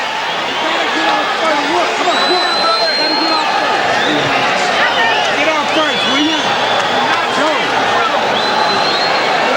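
Boxing arena crowd at a Julio Cesar Chavez vs Joey Gamache fight, a dense, steady roar of murmuring and cheering voices filling the space throughout, loud and continuous with scattered shouts.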